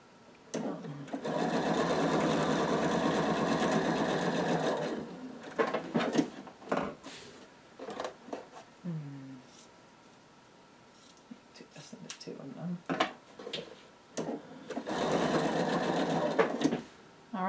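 A sewing machine chain-piecing fabric at a 2.0 stitch length with needle-down stopping, running in two long steady bursts separated by clicks, handling noises and someone talking, close and clear.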